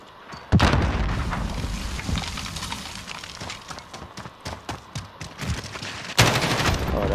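A grenade blast and volleys of gunfire in Call of Duty: Modern Warfare multiplayer: a sudden loud boom opens, rapid bursts of shots follow throughout, and a second heavy blast lands near the end.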